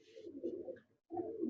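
Breeder pigeons coo close by, a low murmuring coo that runs for nearly a second, breaks off into a brief silence, then starts again just as strongly.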